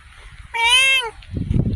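A single clear cat meow rings out close by, rising and falling briefly, followed by a soft low rustle.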